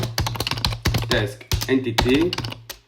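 Code is typed on a computer keyboard in quick irregular bursts of sharp clicks, close and clear, while someone speaks over the keystrokes.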